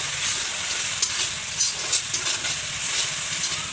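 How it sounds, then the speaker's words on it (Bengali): Dried loitta fish frying with spices in a village-style pan gives off a steady, close hiss and sizzle, with soft stirring scrapes now and then and no talk over it. "আর এইটা হচ্ছে এই যে শুটকিগুলো আগে ভুনা করে নেবো, তারপর আলুগুলো দেবো।"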